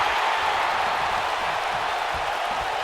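A wrestling crowd cheers in the WWE 2K19 video game, a dense, even roar of distant voices that holds steady throughout the short stretch, with no distinct speech.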